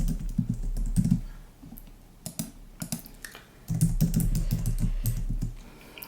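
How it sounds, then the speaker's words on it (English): Rapid clacking of computer keyboard keys, typed in bursts with short pauses, close and clear with no voices. "Let me just type it into our computer."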